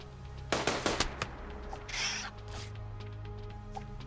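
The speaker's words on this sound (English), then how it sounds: "she does manage to get off a few more shots" Gunfire from the RimWorld video game, a quick cluster of sharp shots followed by a few scattered bursts and a whooshing blast over a steady background hum, with no talking.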